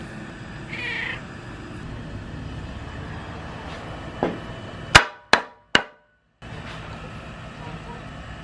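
A house cat gives a brief, faint meow beneath steady room noise while someone assembles a wooden stand for a 75-gallon aquarium; sharp knocks follow a few seconds later.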